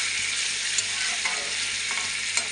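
Ridge gourd sautéing with salt in a pan gives off a dense, continuous close sizzle, with a few faint stirring taps scattered through it.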